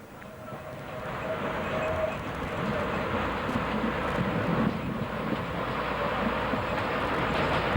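A rail inspection vehicle running along a Trieste railway line in the 1990s, a loud continuous rumble of wheels on track with faint clicking joints, building slightly toward the end.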